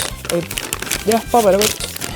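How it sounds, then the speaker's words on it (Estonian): A small paper bag crinkles and rustles in a few short bursts while a person talks over it. "ja nüüd meil on siuke väike paberkott"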